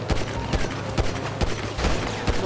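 Rapid gunfire in the GTA 5 video game, a run of sharp evenly spaced shots close by, loud and continuous over the short stretch.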